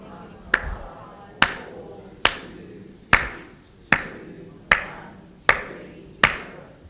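Single sharp hand claps ring out alone in a quiet room, eight of them evenly spaced just under a second apart, each crisp and close with a short decaying tail.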